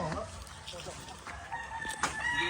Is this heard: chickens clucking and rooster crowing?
yes